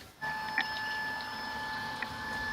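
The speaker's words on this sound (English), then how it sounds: "Oh, it's my printer, sorry." A home printer runs with a steady whirring hum and thin tonal whine, punctuated by a couple of small clicks, close by and continuous after starting abruptly.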